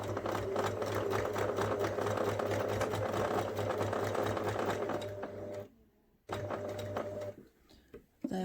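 Sewing machine stitching fabric for a memory bear, a loud rapid mechanical whir with a humming motor that runs steadily, then stops, restarts briefly and halts again with short clicks.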